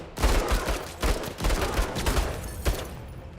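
Rapid bursts of machine gun fire from the MENACE strategy game, loud repeated volleys of shots in quick succession with no talking.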